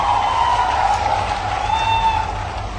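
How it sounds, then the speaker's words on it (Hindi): A crowd at a public government event in Rewa applauds to welcome the chief minister, a steady wash of clapping at moderate loudness that tapers slightly toward the end. "जोरदार तालियों से अभिनंदन करिए माननीय मुख्यमंत्री जी का।"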